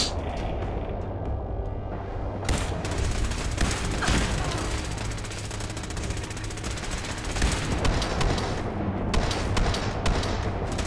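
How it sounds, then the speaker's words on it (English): Rocket launcher or rocket turret in Fallout 4 firing repeatedly, loud blasts and crackling booms recurring over a dense, rumbling battle din with no pauses. "whoever has this rocket launcher that keeps firing at us"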